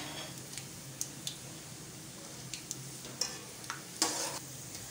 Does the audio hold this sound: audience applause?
no